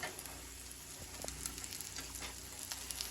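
Food sizzles and crackles steadily in a hot frying pan, a close, continuous hiss with small pops, no talking.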